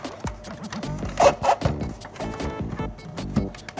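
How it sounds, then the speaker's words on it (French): A special Nintendo screwdriver turns and rubs against the screws of a GameCube console, giving close, scratchy grinding and ratcheting bursts in short repeated strokes. "ça c'est l'outil indispensable, hein, on va dire, le tournevis spécial Nintendo"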